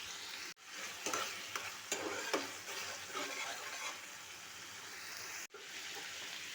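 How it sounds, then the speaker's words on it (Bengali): Egg korma masala with added sugar stirred in a frying pan, a soft steady sizzle with scraping strokes and brief gaps, quiet and close. "ভালো করে কষিয়ে নেবেন।"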